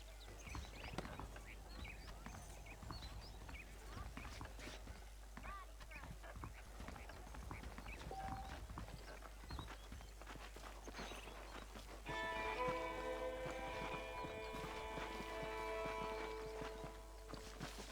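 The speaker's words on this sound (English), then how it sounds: "The horses are saddled up over here." Horse hooves clip-clop at a walking pace in the Red Dead Redemption video game, a steady near rhythm of hoofbeats with someone talking over it, later joined by a sustained tonal music layer.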